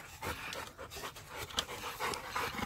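A bully-breed dog pants heavily up close, with rapid, breathy huffs in a steady rhythm and occasional louder gasps, and no talking.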